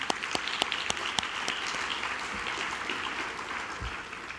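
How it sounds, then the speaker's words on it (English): A luncheon audience applauds, a dense, even wash of many hands clapping through the room, with a few sharper nearby claps standing out at the start, and no voices over it. "let's show them a round of applause for their appreciation to them"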